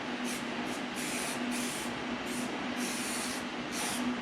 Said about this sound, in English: I'm just going to use some of this aerosol etching primer for the bare metal